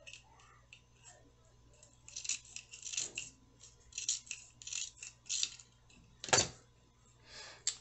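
Scissors trimming excess material while making embellished binder clips, a string of quiet close snips and crisp cuts with one sharper cut near the end, faint whispery talk in between.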